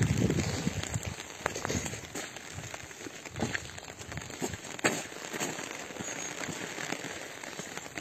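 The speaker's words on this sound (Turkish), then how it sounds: "Yukarılara kar yağıyor ama bura karla karışık yağmur." Sleet, rain mixed with snow, falls during a drive toward a rural village, a dense steady patter of drops on surfaces with scattered sharper ticks throughout, no voices.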